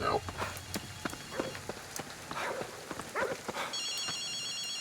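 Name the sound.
telephone ringing in video game Ghostwire: Tokyo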